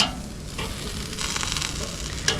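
Teres Major steaks sizzle steadily on a Weber kettle grill, a close, continuous hiss of searing meat with a few brief crackles and pops.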